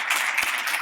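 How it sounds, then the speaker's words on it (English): Short burst of steady audience applause at a climate-crisis panel event hosted for the financial services sector, dense clapping filling the whole moment with no speech over it. "a round of applause"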